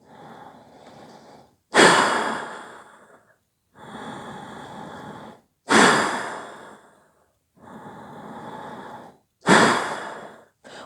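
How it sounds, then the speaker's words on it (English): Forceful kapalbhati pranayama exhales, three sharp loud bursts at steady intervals, each followed by a quieter, longer normal inhale; close and alone, with no talking. "So you inhale first normally and then exhale forcefully."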